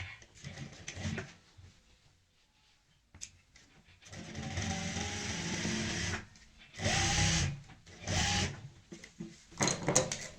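An electric sewing machine runs in several bursts while stitching a garment's armhole seam, whirring steadily for a few seconds at a time and then pausing; the stitching is close and moderately loud, with quieter handling noise in the gaps.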